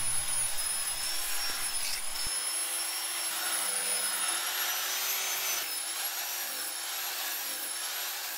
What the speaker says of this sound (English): And then it's back to more sanding.